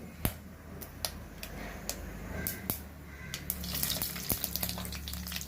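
Mustard seeds splutter in hot oil at the start of a prawn and okra curry, with sharp, irregular pops and crackles snapping over a continuous close sizzle.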